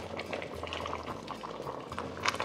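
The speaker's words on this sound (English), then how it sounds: "Now it's boiling." Liquid boiling in an uncovered pot on a stovetop, a quiet steady bubbling and gurgling with small pops, close by and heard alone.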